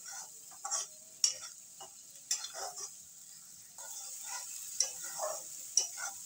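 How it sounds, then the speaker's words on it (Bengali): Lobster brains frying over medium heat while gently stirred in a pan: faint, sparse scrapes and small clicks over a quiet sizzle, with no one speaking. "আমি এরকম অল্প জাল দিয়ে মিশিয়ে মিশিয়ে নাড়িয়ে নাড়িয়ে ভেজে নিচ্ছি এটা"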